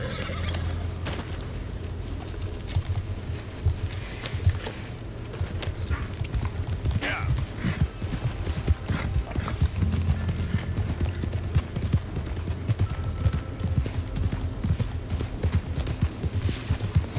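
Horse hooves clip-clop steadily at a trotting rhythm in Red Dead Redemption II, close and moderately loud, over a busy background of ambient noise, with occasional dull thumps.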